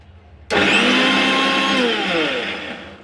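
A mixer grinder motor starts abruptly on its lowest speed setting and runs steadily with a loud whirring drone, its pitch sliding slightly lower toward the end.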